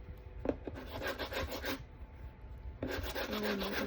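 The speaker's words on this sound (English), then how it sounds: "Now I'm going to do just a light sanding" Light hand sanding on a painted pumpkin craft piece, soft quiet rasping strokes in two short bursts separated by a brief pause.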